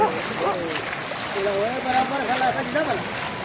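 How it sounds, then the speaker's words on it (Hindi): Fast floodwater pours into a village, a steady rushing, splashing flow heard up close with someone talking over it throughout. "यहाँ पानी का बहाव बहुत तेज है"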